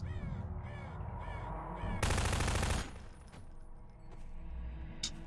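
Crows caw in repeated harsh calls in Half-Life 2, then a loud rapid burst of gunfire cuts in and fades into scattered noise. The caws are near and distinct before the shooting.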